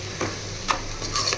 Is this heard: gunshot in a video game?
no